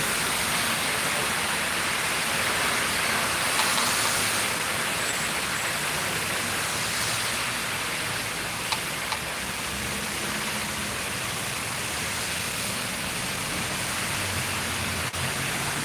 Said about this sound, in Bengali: আসুন বৃষ্টি উপভোগ করি